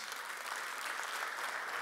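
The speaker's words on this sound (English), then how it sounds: "You ought to give God a round of applause." Dense, even congregational applause in a church during a sermon, a continuous soft wash of many clapping hands, fairly distant and faint throughout.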